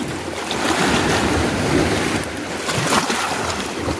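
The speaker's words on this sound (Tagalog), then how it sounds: "Kita mong dagat. Yung dagat oh." Sea waves at the shore wash in with a broad, steady hiss and roar, swelling and receding, mixed with some wind buffeting on the microphone.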